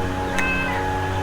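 A cat meows once, loud and close, with a short drawn-out cry over steady background hum.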